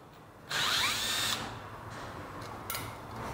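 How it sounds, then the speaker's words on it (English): An automatic electric screwdriver whirs loudly and close for about a second, straining against Loctite-secured screws on a GTS 300 HPE scooter, followed by a quieter pause and a brief second burst. "the automatic little screwdriver"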